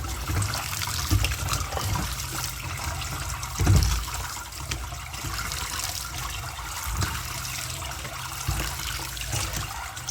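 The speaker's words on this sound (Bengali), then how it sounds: "তো এটাকে আমি চিপে জলটা ফেলবো" Water wrung from boiled bottle gourd leaves by hand, a steady trickle and splash of liquid draining close by, with a louder gush near the middle and no speech.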